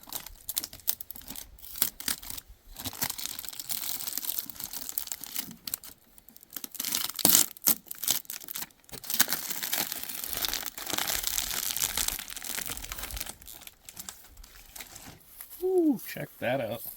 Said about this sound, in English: Alright guys, time for the famous plastic peel.